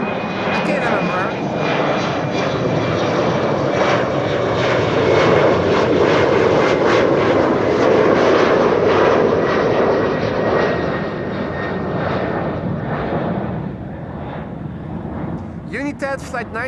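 A KLM airliner passes overhead at Amsterdam Schiphol Airport, its loud, steady engine roar swelling and holding near for most of the stretch before easing slightly as it moves on.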